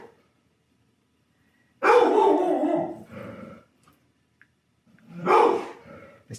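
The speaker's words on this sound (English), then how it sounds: "that's our dog." A dog barks twice, close by, with a gap of silence between the loud barks.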